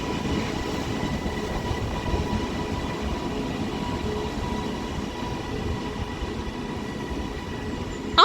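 A train at Liverpool Lime Street station, a steady low rumble and rolling hum of rail cars at close range with no talk, ending in a brief clatter.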